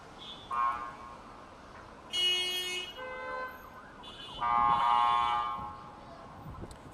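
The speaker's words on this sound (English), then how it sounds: "Sounds like we're hearing maybe ambulance and emergency operations." Distant sirens from ambulances and emergency vehicles rise and fall in several separate bursts amid a war setting, heard faintly over low background noise with no talking.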